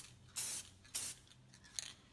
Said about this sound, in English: shake up the can and long pass it across the headstock first.